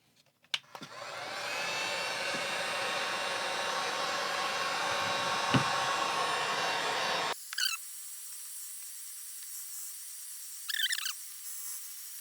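A hair dryer or heat gun runs steadily and close for about seven seconds while warming a Samsung Galaxy S10e phone to soften the battery adhesive during a battery replacement, then cuts off, leaving faint hiss and a few small handling noises.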